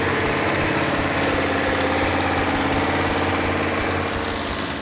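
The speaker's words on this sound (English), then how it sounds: "Everybody involved in bringing this engine back to life, the Phoenix Cuda engine, did a fantastic job." Rebuilt Plymouth Hemi Cuda V8 engine idling after a fire, a loud, close, lumpy rumble with a steady throbbing pulse that continues unbroken for several seconds, no speech.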